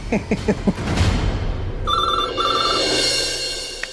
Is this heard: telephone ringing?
yes